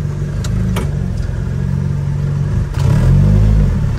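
A Datsun 620 pickup engine idles and hums loudly while the truck reverses, its steady rumble rising slightly as it moves back, close and continuous without talk.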